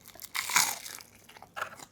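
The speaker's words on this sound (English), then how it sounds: "That was a good crunch." Battered fish and chips crunch loudly in two crisp bites, close to the mouth, the first bite longer and crackling, the second shorter, with no talking.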